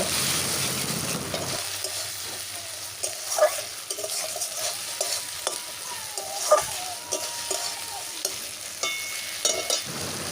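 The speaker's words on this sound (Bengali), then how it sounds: "আর ওই বাটা মশলাটা সব কিছু একসঙ্গে দিয়ে বেশ কিছুক্ষণ ধরে কষিয়ে নেব" Ground spice paste and onion paste frying in a pan for a Bengali rupchanda fish curry, with a steady low sizzle and repeated scraping stir strokes, close and without talk.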